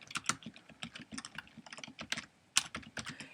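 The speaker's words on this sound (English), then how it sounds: "let's type in musical instrument" Rapid typing on a computer keyboard, close and clear, with uneven bursts of clicking keystrokes and one louder key strike near the end; no voices.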